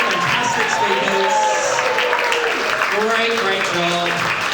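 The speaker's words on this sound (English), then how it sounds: "One final round of applause, everybody, please, for our three fantastic speakers" An audience applauds the three speakers at a Nerd Nite event, with steady clapping and some crowd noise mixed under a voice talking over it.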